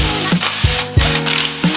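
A ratchet wrench loosening valve cover bolts on a Subaru engine during a head gasket job, giving about five short, loud, close clicking bursts at an irregular pace with no talking.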